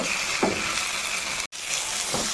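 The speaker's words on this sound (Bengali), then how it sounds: "মশলা এখানে কিন্তু ভাজা হয়ে গেল" Continuous soft sizzling of spice paste frying in a pan for a bitter gourd dish, with a couple of quiet stirring scrapes and a very brief dropout in the middle.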